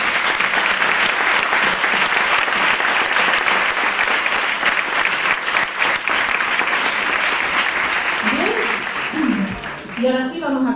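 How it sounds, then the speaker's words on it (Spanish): An audience at a neuroscience and education congress applauds with sustained, loud clapping that continues evenly, then fades near the end as a voice begins speaking. "Os pediría un aplauso para ellos."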